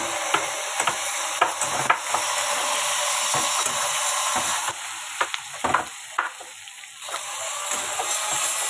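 Soybean chunks fry and sizzle in plenty of oil, a steady close hiss broken by repeated clacks and scrapes of stirring, with no talking.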